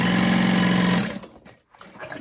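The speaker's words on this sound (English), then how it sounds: "I'm just gonna sew along all four sides." A sewing machine runs fast and steady at close range, stitching a messenger bag pocket for about a second before slowing and stopping, leaving faint handling noise.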